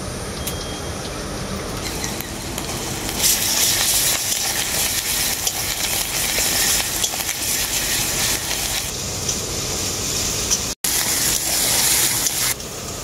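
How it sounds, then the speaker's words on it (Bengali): Ginger garlic paste fries in oil with onions in a pan, giving a dense, loud, continuous sizzle that swells as it is stirred, with a brief cut near the end. "আদা রসুনটাকে আমি খুব ভালো করে ভেজে নিয়েছি।"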